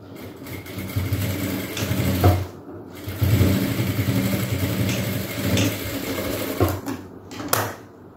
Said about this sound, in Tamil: ஸோ இப்படி வச்சு ஸ்ட்ரைட்டாக தையல்.